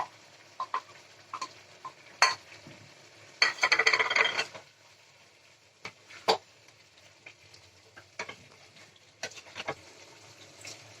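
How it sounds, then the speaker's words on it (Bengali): Spice paste being stirred into cooking spinach greens with fish oil in a pan, a spoon scraping and clattering in scattered bursts, with one longer rasping stir and faint sizzling between. "সেই মশলাটা আমি এবারে এর সঙ্গে মিশিয়ে দিচ্ছি।"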